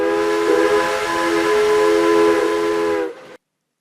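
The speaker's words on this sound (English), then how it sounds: "it let out a loud and long whistle, like a shout of triumph" A steam locomotive whistle blows one loud, long, steady multi-tone blast with hiss, close and alone, cutting off abruptly.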